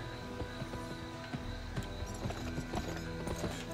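Hoofbeats of a horse galloping in a race in the western video game GUN, a quick steady clip-clop over a continuous game soundscape, fairly faint and with no voices.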